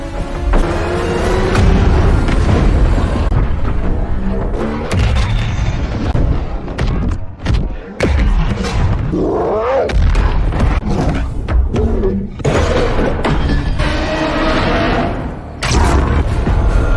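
Explosions and heavy booms from a Godzilla vs Kong fight roll through a dense, loud cinematic mix, with repeated thuds and impacts and sustained rumbling throughout.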